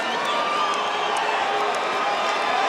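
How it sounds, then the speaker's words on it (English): Arena crowd at a mixed martial arts event in Dallas applauding and cheering, a dense, steady roar of clapping and shouting that fills the space without letup. "Andrede getting the applause here from the crowd"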